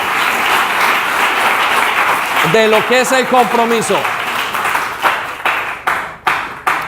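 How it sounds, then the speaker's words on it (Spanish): Church congregation applauding during a sermon, a broad wash of clapping under a preacher's voice, with a brief sung or musical tone in the middle and the clapping fading toward the end. "Dele un aplauso a Dios gigante,"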